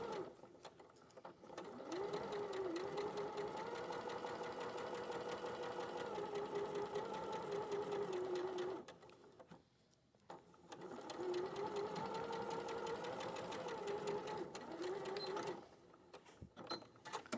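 A sewing machine stitches a collar seam with a steady, fast mechanical whirr and rhythmic needle clatter, running for several seconds, pausing briefly, then running again close by.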